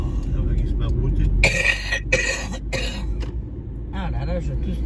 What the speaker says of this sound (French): Ah là là, je tousse toujours.